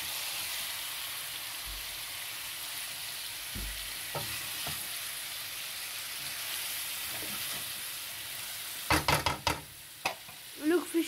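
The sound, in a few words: fish curry masala being stirred and fried in a pan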